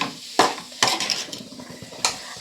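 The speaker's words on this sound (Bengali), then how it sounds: "মশলাটাকে কষিয়ে নেব।" Spice paste being stir-fried with onion and tomato in a pan for Bengali Bombay duck curry, with a few clattering scrapes of a spatula against metal over a soft sizzle.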